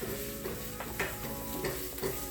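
Chorizo sizzles steadily in a pan while a utensil scrapes and stirs it in repeated strokes, close and continuous with no talking.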